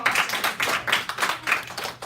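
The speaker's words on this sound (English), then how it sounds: "So give them a round of applause." A classroom of students gives a round of applause, a small group clapping in loose, pulsing bursts, close and fairly loud, with no talking.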